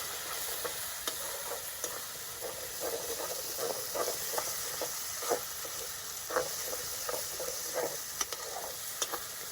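Turmeric and Kashmiri chili powder masala frying in oil for a spicy capsicum chicken kosa, a steady close sizzle with repeated scraping stir strokes throughout, no voices.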